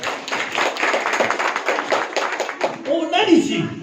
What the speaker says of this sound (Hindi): प्रभु के लिए जोर से ताली बजाएंगे।